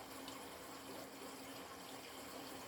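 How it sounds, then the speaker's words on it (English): Steady running water as a paintbrush is rinsed and wetted, a continuous soft splashing wash with no distinct strokes, moderately faint and unbroken throughout. "Now I've just simply wet my brush, rinsed it a bit"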